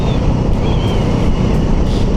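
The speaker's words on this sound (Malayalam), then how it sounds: "നല്ല കാറ്റുണ്ട് കേട്ടോ" Strong wind rushes steadily past the rider on a motorcycle trip through Wayanad, a loud, constant low roar with no talk over it.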